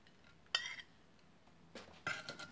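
Rice and dill being stirred in a pot for broad bean pilaf, with a sharp utensil clink followed by scraping and rattling strokes near the end, quiet and close.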